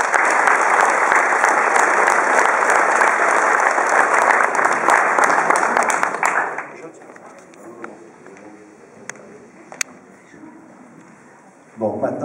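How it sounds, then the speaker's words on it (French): An audience at an art festival opening in Bagnols breaks into dense, loud applause for the artists. The clapping lasts about six seconds, then thins to scattered claps and quiet room noise, with a voice returning at the end. "Je pense qu'on peut vous applaudir,"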